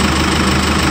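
A Jeep Wrangler JK with a swapped-in CRD diesel engine runs at a steady idle, with a loud, continuous low rumble and no pauses.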